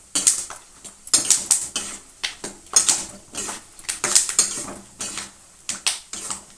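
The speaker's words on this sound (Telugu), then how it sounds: "చూడండి, వేగుతున్నాయి, చిట్టుపట్ట ఉంటున్నాయి చూడండి, చిల్లుతున్నాయి." Peanuts fry in hot oil, crackling and popping in irregular bursts of sharp snaps, fairly close and steady throughout with no talking over them.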